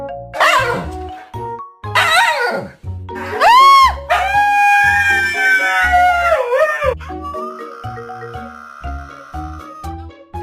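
A dog barks, yelps and howls after being pranked with sparkling water, giving a run of loud, close, pitched bursts. Its cries rise and fall over about ten seconds, and a long steady whine comes near the end.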